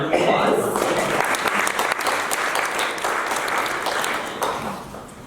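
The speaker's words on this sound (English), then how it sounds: "need to give everybody a very large round of applause right now" Big round of applause from the audience at an interfaith conference for the 550th Parkash Utsav of Guru Nanak Dev Ji, dense clapping that holds steady and slowly tapers off, with some voices underneath.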